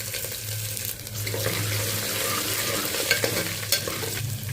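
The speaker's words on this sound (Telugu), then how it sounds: "ఇలా ఎర్రగా ఫ్రై అయిన తర్వాత అల్లం ముక్కల్ని యాడ్ చేసుకోవాలి." Ginger pieces fry in a pan of oil for wheat rava upma, a continuous close sizzle with light scraping and stirring, steady in level, no voices present.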